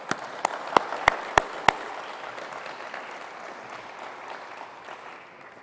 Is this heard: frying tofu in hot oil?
no